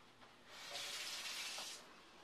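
Tap water pours into a glass in a short steady splashing hiss that swells for about a second, then settles back into quiet room noise.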